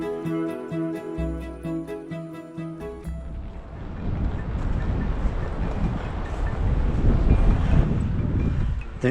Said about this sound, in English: That's our alarm to say stop, water, snack every half an hour